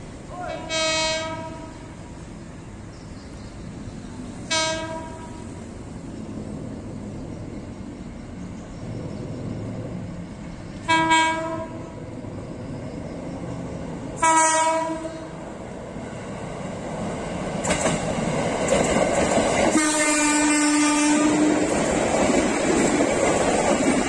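A JR 205 series electric commuter train passes a level crossing with a rumbling, clattering roll, sounding several short horn blasts spaced apart and a long final blast as it goes by, loud and close.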